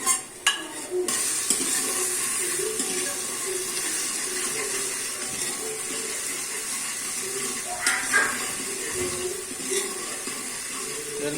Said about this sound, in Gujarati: તેલમાં ડુંગળી મસાલો જીરું નાખીને કરવા માંડ્યા, કડકડાવવા માંડ્યા.